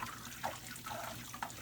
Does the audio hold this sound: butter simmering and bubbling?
yes